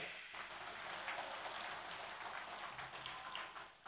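An audience at a Balinese talk on tradition claps in a soft, distant wash that sounds almost like rain, continuous throughout and faint, with no voices standing out.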